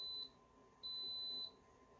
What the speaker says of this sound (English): I'll let it finish beeping.